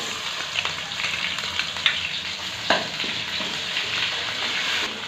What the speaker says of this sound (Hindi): एक से 2 मिनट इसको भूनेंगे ताकि लहसुन की जो स्मेल है वो ख़त्म हो जाए